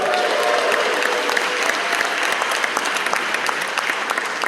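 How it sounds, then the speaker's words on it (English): Theatre audience at the Castro Theatre in San Francisco applauding for actress Nancy Allen, a loud continuous roar of many hands clapping, dense and sustained, with no voices over it. "can we give a round of applause for her?"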